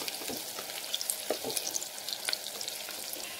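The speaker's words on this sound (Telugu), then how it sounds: "ఈ ఆనియన్స్ బాగా ఫ్రై అయ్యే వరకు ఫ్రై చేసుకోవాలండి." Onions frying in oil toward golden brown, a close continuous sizzle with soft crackles and occasional stirring scrapes, no voices.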